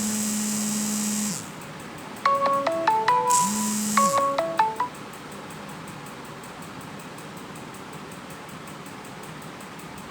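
A phone ringtone goes off in the middle of a spoken lecture on the story "On the Face of It": a short burst of bright melodic electronic notes, fairly close and clear, which stops abruptly and leaves quiet room tone.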